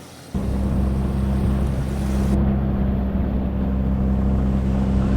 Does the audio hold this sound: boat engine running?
yes